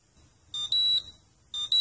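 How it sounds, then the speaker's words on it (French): AMC cookware temperature indicator sounds its alarm: two short bursts of high, piercing electronic beeping, close and clear, in a quiet kitchen. "vous l'entendez maintenant, ça sonne et ça m'indique que l'aiguille rouge est passée sur la bonne zone de température"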